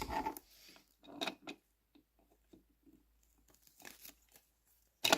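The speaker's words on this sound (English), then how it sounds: "we can cut along that line." A blade scrapes and rasps in short, faint strokes close up as it cuts along a line on a small 3D printed model van. The strokes come irregularly with soft scratches between them.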